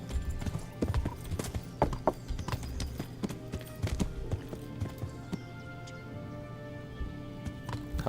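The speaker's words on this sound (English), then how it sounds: "I have a horse now." Horse hooves clip-clop in a video game, a quick, uneven run of hoofbeats that stays fairly faint and steady throughout, with no talking.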